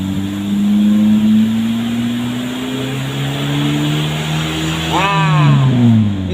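BBG gas-fuelled car engine held at partial throttle, giving a loud, steady drone that rises slightly in pitch, with someone talking over it near the end.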